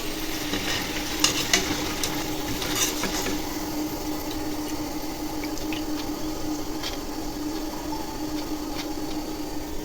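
Sweet jaggery-coated dough sticks frying in oil on low heat for Sankranti: a soft, steady sizzle with scattered light clicks and stirring sounds, fairly faint and with no talking.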